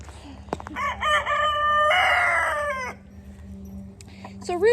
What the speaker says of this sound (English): roosters crow to show dominance to other potential threatening roosters